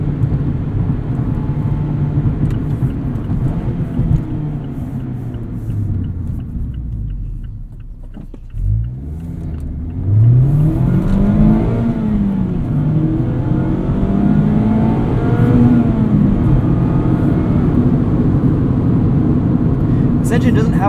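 A stock 2020 Mazda MX-5 Miata Club engine with manual gearbox drones and rises in pitch through repeated revs and gear changes, easing off briefly midway before climbing again loudly.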